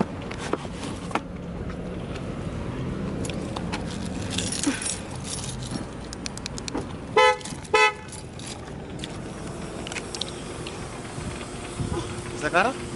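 Two short car horn chirps from a lock signal, close by in an outdoor parking area, with keys jangling and people talking around them.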